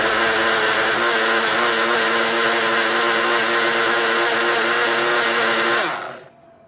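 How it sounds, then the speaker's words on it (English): A blender whirs steadily as it blends aloe vera soaked in water, running loud and constant for several seconds before the motor winds down and stops. "I put it in a blender"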